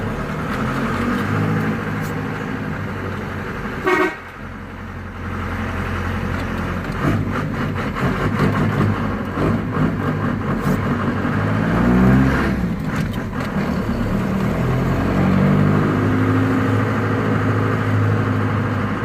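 A Ford Transit van with a modified exhaust revving up and holding a loud, rumbling engine note close by, with a brief drop in the middle before the roar builds again.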